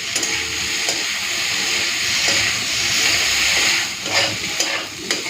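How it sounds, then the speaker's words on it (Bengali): Bitter gourd and potato pieces fry in a pan with a little chili powder, giving a loud, steady sizzle and hiss with occasional scraping of a stirring utensil, close by and with no voices. "উচ্ছে আলুটাকে ভালো করে ভেজে নিই"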